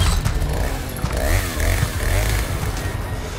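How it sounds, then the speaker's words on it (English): A chainsaw-wielding enemy in the video game Resident Evil 4 Remake revs its motor continuously, the buzzing engine rising and falling in pitch with gritty, loud intensity. "Yep, here comes Chainsaw Tom."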